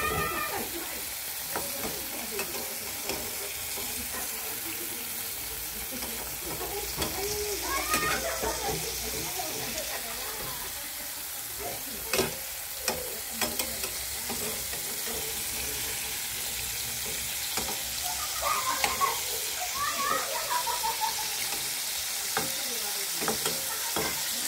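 Fish wrapped in bottle gourd leaves fries in a pan over a gas flame and is turned over. A continuous close sizzle carries scattered clanks and scraping, and a voice speaks intermittently over it.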